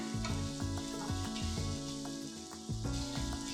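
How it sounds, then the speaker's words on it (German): Carrots frying in a wok with scallion, garlic and ginger sizzle steadily up close, broken by repeated rhythmic clanks of a spatula tossing the pan, with no one speaking. "Die Möhren zuerst dazugeben und kurz braten."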